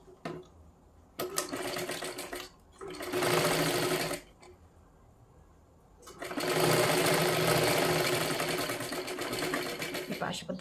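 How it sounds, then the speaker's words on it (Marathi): An electric sewing machine stitches a strip of blouse fabric in loud, whirring bursts of rapid needle chatter, starting and stopping several times, with a voice speaking in the pauses. "आता इथे आपल्याला शिलाई मारून घ्यायची आहे."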